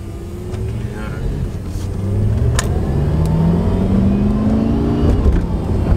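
A BMW F10 M5 with a 4.4-liter twin-turbo V8 revving, its engine note rising and climbing in pitch over several seconds, steady and fairly close, while someone talks over it.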